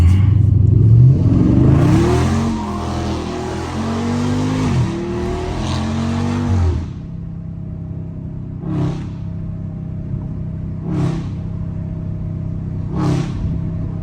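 A Dodge Scat Pack car revs hard and drifts through neighborhood turns, engine roaring with rising and falling pitch and tire noise for about seven seconds, then idling with three short sharp blips spaced a few seconds apart.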